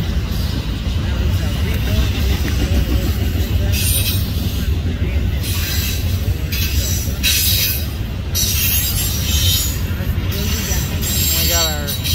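A Norfolk Southern westbound intermodal freight train rolls past loud and close, with a steady heavy rumble, rhythmic wheel clatter and recurring squeals, with talk over it.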